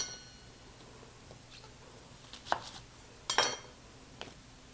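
Sharp knife strokes halving onions on a kitchen cutting board, a few crisp clicks and taps, two louder cuts standing out near the middle, fairly close in a quiet room.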